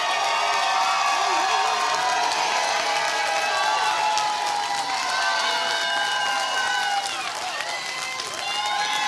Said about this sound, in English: Let's give those graduates another round of applause